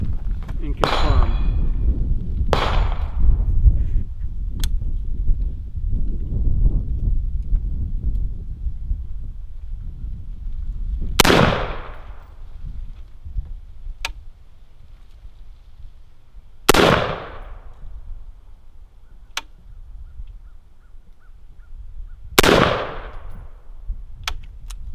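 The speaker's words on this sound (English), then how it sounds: "I'm gonna try the Zero Delta at the same distance, 20 yards" Suppressed shots from a Maxim Defense PDX 7.62 rifle fired at a steel target 20 yards away, with several sharp reports spaced seconds apart, each followed by a ringing metallic clang, over faint background noise.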